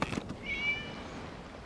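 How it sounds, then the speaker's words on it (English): A single short, thin meow from a cat rises briefly and fades, faint and somewhat distant in a Genshin Impact scene, set against a quiet ambient background after a soft click. "It was just a cat."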